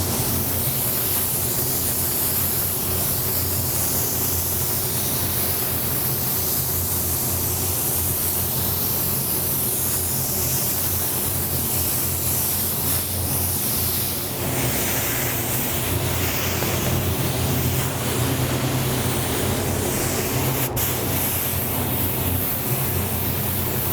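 Spray paint hissing onto powder coated wheels during a third coat, a loud steady airy spray that runs nearly continuously up close, with brief pauses and a faint click near the end.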